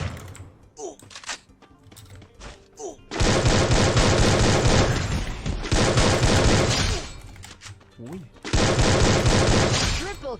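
Rifle fire from an M14 in the Free Fire mobile game: dense sustained bursts of rapid shots in three long volleys, loud and close, after a stretch of quieter clicks and game effects, with a voice talking over it.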